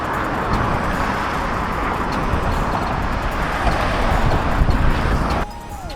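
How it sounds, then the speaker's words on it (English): Dense, loud roar of passing cars at close range on a San Francisco bridge, heard while walking across it, a steady rumbling wash of traffic that cuts off abruptly near the end. "It's a lot of cars."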